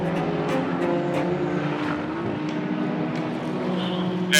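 Race cars run on a track at a farm motorsports event, their engines droning steadily throughout, with faint overlapping higher engine tones suggesting more than one car at a distance.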